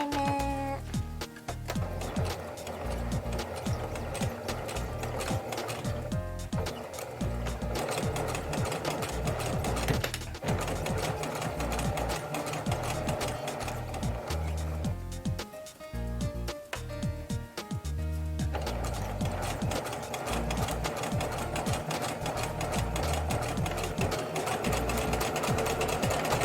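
Sewing machine stitching fabric pieces for a doll's cap, heard as a loud, steady mechanical whirring drone with rapid ticking that runs almost nonstop, broken by a few brief pauses.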